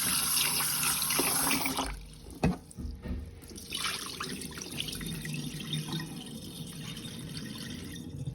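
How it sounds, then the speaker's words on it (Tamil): Urad dal being rinsed in water like rice, with water from a tap running and splashing in a bowl, then softer sloshing and stirring of the lentils, steady and close without talk. "சாதாரணமாக நம்ம எப்படியும் அரிசி கழுவுற மாதிரி இப்படி கழுவி வேண்டிதான்"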